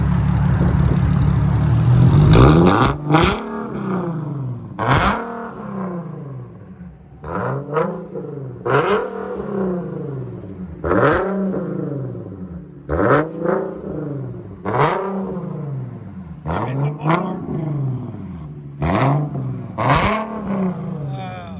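An Infiniti Q60 coupe with a 3.7L V6 and an aftermarket exhaust is revved in a series of about nine loud, evenly spaced throttle blips, each rising and falling back over a deep rumbling idle.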